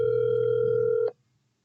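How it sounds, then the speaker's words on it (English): A telephone line tone sounds steadily for about a second as a call is placed, then cuts off abruptly into near silence. "I'm going to get her on the phone now and begin."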